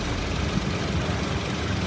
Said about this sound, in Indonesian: Dan ini suara mesinnya